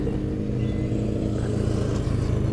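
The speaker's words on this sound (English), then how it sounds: "it seems like a lot of traffic through this country road" Vehicles pass along a country road in a steady low engine rumble lasting a few seconds, with no talking.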